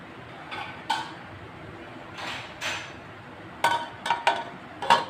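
A lid goes onto a cooking pot of chicken malai handi simmering on medium-low flame, with several soft sliding scrapes and then a cluster of sharp metallic clinks, close and fairly quiet, no talking.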